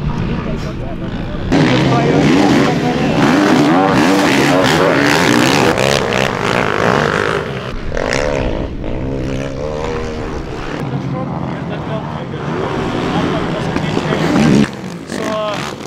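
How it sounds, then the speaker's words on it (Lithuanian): Quad bikes roar past on a race track with loud, sustained engine noise that builds and stays close for several seconds before easing off, while people talk nearby. "Eina traktoriai."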